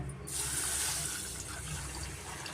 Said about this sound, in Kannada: ಕುಕ್ಕರಲ್ಲಿ ಹಾಕಿ ಅಕ್ಕಿ ಮತ್ತು ಹೆಸರುಬೇಳೆ ಎರಡು ಹಾಕಿ ನೀರು ಹಾಕ್ಕೊಂಡು ಒಂದು ಎರಡು ಸತಿ ವಾಶ್ ಮಾಡಬೇಕಾಗುತ್ತೆ